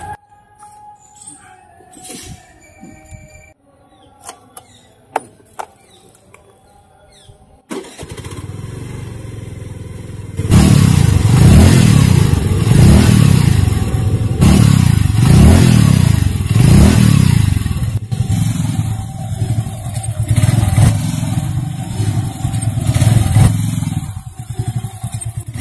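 A motorcycle engine starts after a quiet stretch, then revs in repeated rising surges and holds a loud, close rumble.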